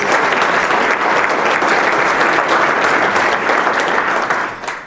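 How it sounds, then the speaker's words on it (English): A large audience applauds at a Rotary district conference keynote, a loud, dense and steady wash of clapping that holds for several seconds before starting to fade. "Please give her a big round of applause."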